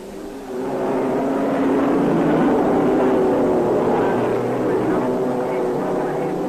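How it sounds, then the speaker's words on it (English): Racing cars with engines snarling as they leave the start at Le Mans in 1953, a dense, steady roar of many engines with a voice speaking over the din. "A Cunningham in the lead, the whole pack snarling at his wheels."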